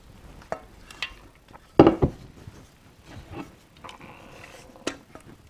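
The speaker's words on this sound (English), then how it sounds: "It's good to use a spatula for this because you'll be able to really scrape down the pot and get all of that cheese sauce out" A spatula scrapes cheese sauce from a pot in a kitchen, giving sparse wooden knocks and clinks, one sharper bang, and a short rasping scrape near the end, all fairly close and quiet.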